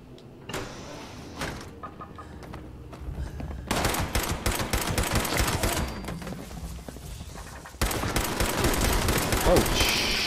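Automated turrets in a Fallout 76 power plant fire rapid, sustained bursts that grow louder and denser partway through, nearly continuous gunfire with a player's voice in places.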